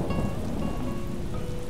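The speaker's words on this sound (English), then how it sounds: "was that lightning?" Steady rain with a low rumble of thunder in Animal Crossing: New Horizons, a continuous wash of rainfall filling the scene with no voices.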